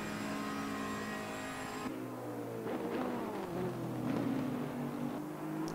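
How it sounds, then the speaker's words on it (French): A Ferrari GT3 race car engine revs and shifts in a racing video game, a steady high-pitched engine note with a gear change partway, then a rising and falling tone as it accelerates. "le moteur de la Ferrari qui fait toujours autant merveille"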